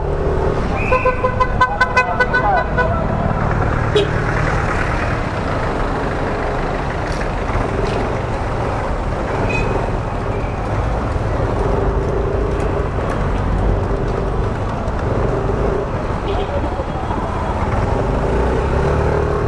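Busy road traffic near Baclaran in the Philippines: a continuous rumble of car, truck and bus engines, with a burst of horn honks early on and more scattered toots after, close by and loud, with no talk.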